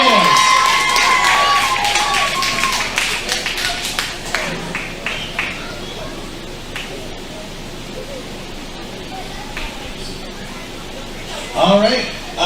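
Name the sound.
wrestling show crowd cheering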